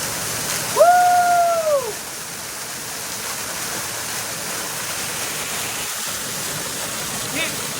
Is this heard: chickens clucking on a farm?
no